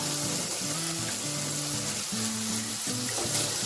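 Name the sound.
chopped tomatoes and potato added to frying pan, sizzling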